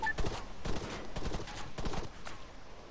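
Bursts of rifle gunfire in the military shooter ARMA 3 during an infantry assault, several sharp cracks in irregular clusters over about three seconds, moderately loud, with faint background voices.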